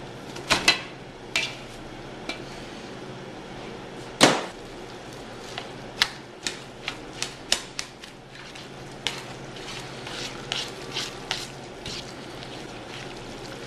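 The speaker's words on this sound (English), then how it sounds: "We're going to just stir the milk into the tomato soup, and we're going to add our sauerkraut into this mix" Milk and sauerkraut being stirred into tomato soup for stuffed cabbage, with a utensil tapping and scraping against the pot in scattered soft clinks and a few wet squishes, close and fairly quiet, with no talking.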